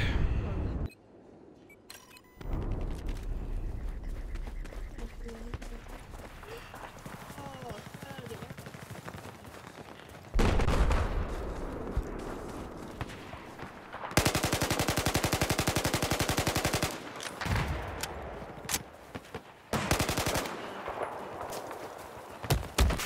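Rapid bursts of automatic gunfire and scattered shots in a busy soundscape from the video game The Darkness, loud and close at times, with people talking over it.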